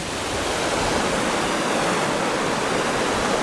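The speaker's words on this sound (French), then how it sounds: "j'ai pu franchir ce petit torrent" A small mountain torrent in the Clarée valley rushes steadily, a dense, even roar of flowing water with no pauses, close and fairly loud.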